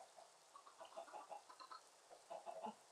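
Chickens cluck in the Minecraft video game, a faint, scattered run of short clucks and squawks that rises and falls over a few seconds.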